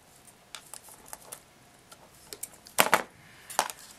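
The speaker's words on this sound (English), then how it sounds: "now you need your shorter wire. You just cut off a piece." Small sharp clicks and snips as a shorter piece of wire is cut off for hanging plastic bottles on chicken wire, faint ticking followed by two louder crisp cuts close by.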